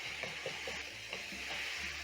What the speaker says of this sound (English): using your spatula you're going to break down the minced meat as it cooks